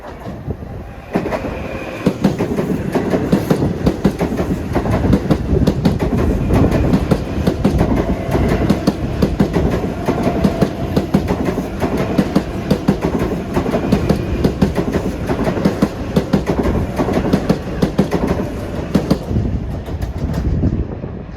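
A Long Island Rail Road commuter train rushes through Woodside station during the evening rush, a loud, close, continuous rumble with rhythmic wheel clatter lasting about twenty seconds.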